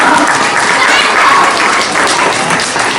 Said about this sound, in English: I think we should give her a nice big round of applause for being part of the show here.